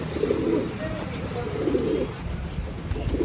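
Pigeons at a pigeon festival in Nashik coo in low, repeated throaty rolls over a busy crowd murmur, with voices talking nearby.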